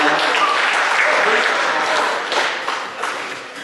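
Audience applause at a recognition banquet, a steady wash of many hands clapping that fills the room and tapers slightly toward the end, with no voices over it.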